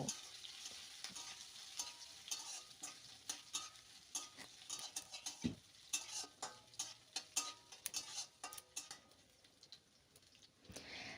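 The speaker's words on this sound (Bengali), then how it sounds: "এবার কাঁচা লঙ্কা আর আদাটাকে একটুখানি ভেজে নেব।" Green chillies and grated ginger fry in oil in a pan, a steady close sizzle broken by frequent scraping, stirring knocks of a spatula against the metal.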